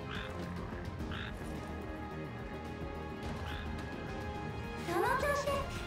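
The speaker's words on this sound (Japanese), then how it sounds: "このカエルは参考程度に。" Frog croaking in the video game Final Fantasy XV, a few separate croaks spaced out over a steady game background, then a louder burst of sound near the end.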